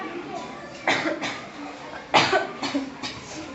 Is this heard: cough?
yes